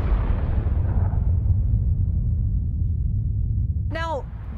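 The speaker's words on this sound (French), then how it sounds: "tout explose à partir du centre," A bomb-like explosion sound effect, a loud sustained roaring rumble that slowly fades, with a brief high voice-like sound near the end.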